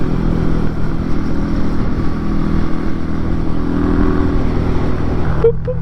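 A 50cc motor scooter engine drones steadily and loudly at a constant idle-like pitch, close by, with a faint clack near the end.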